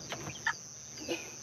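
A few short laying-hen clucks, close by, in quick scattered bursts with a brief pause between them.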